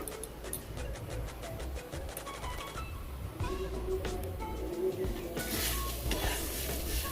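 Bhog rice fries in a pan under steady stirring. A spoon scrapes and taps against the pan in a quick, regular rhythm over a soft background crackle, and the sizzle grows louder and brighter near the end.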